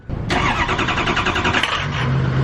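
A 6.0 diesel truck engine cranks for a moment on a cold start, then fires and settles into a loud, steady rumble close by, with a low droning tone near the end.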